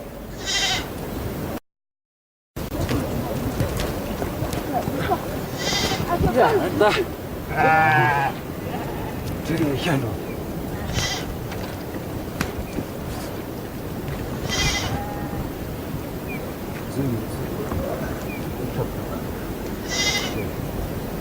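Sheep bleat repeatedly from a herd of about 200 on a snowy high mountain pasture, calls rising at intervals over a steady outdoor rumble, with a person talking in the background.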